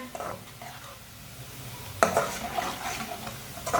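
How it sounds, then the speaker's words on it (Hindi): Finely chopped onions sizzle and are stirred in a pan while lightly browning, a soft fry with a clatter of a spoon against the metal about halfway through and scraping after. "प्याज को भी हल्का सा ब्राउन कर लेंगे।"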